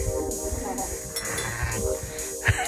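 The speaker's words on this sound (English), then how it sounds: "Oh, the little cute goats." Sheep and goats bleat repeatedly in a barn-like pen during a music video shoot, close and fairly loud, with short overlapping calls and a faint clink, while a person talks nearby.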